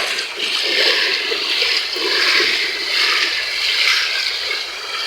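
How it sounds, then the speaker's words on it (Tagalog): Floodwater runs steadily past a home during a flood, a loud continuous rushing and gurgling that swells and eases in slow waves, heard alone without voices. "pag tubig na ang dumadaloy dito sa amin"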